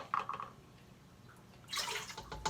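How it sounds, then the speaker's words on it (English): Water runs into a stand mixer bowl while bread is being made, a faint splashing trickle in short bursts and then a louder pour near the end. "We're going to start by putting our 1 1/4 cups of water in the mixer"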